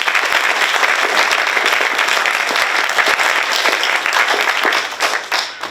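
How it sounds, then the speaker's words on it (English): Full room of guests at an awards ceremony applauding, a loud dense patter of many hands with a few sharper individual claps standing out, tapering slightly at the end. "give yourselves a massive round of applause"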